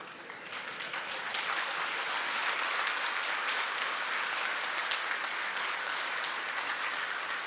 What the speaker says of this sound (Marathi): ही टाळी कशासाठी? ही टाळी मार्केट कमिटीसाठी.